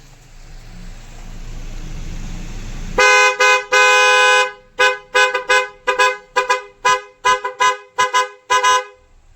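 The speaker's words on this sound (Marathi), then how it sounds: "त्यात तुम्हाला हॉर्नचा आवाज दाखवतो" Maruti XL6 engine idling briefly, then loud, close bursts of an aftermarket multi-tone trumpet car horn: a few long blasts followed by a rapid series of short toots.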